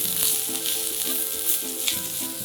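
Extra firm tofu sears in a hot pan with a loud, dense, continuous sizzle and faint crackles, close up and without voices.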